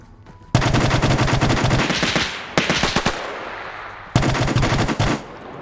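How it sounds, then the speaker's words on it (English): MP40 submachine gun fire in a WW2 online PvP shooter game: three loud, rapid bursts of close automatic fire, each lasting one to two seconds, separated by short pauses. "Tymek doesn't evade the MP40."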